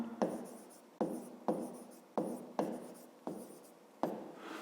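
A pen writes a math answer on paper in short scratchy strokes, about seven distinct taps and scribbles in a steady rhythm. The sound is close and fairly quiet, with no talking.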